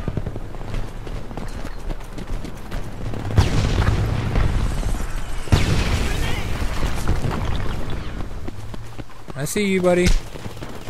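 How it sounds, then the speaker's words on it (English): Heavy tank cannon fire in the video game Homefront, on the Crossroads map in team deathmatch: dull booms and rumbling blasts, loudest around the middle, with someone talking over them and a short sharp burst near the end. "The tank is shooting at me again."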